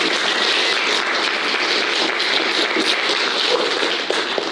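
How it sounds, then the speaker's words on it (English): Audience at an evening panel discussion on news media giving a round of applause, a dense, steady clapping from a crowd filling the room, sustained evenly throughout with no talking over it. "could we just give them a round of applause?"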